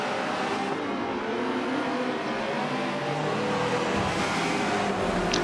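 Race cars in Forza Motorsport 7 at the Dubai circuit, with Ford, BMW, Lotus and Honda entries, give a steady, loud blend of revving engines over the full stretch, with no talk.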